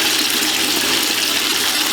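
Tap water runs steadily and fairly loudly for a moment while something is rinsed off, in a home setting where a soil bacteria brew is being mixed.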